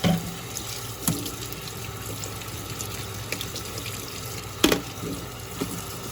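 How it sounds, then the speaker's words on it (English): Water runs steadily from a kitchen sink tap while a container is rinsed out, a constant close hiss with a couple of brief splashing knocks. "And then I'm gonna go ahead and rinse it out in the sink."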